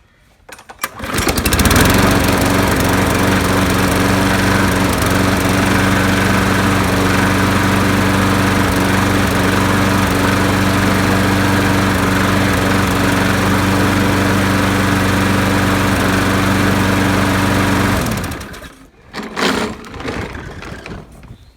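A trash-picked Yard Machines lawn mower starts up and runs at a loud, steady, close-up drone for about sixteen seconds, then cuts off, leaving a brief sputter and a few quieter noises.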